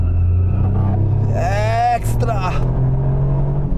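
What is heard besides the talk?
Toyota GR Yaris rally car driving on a stage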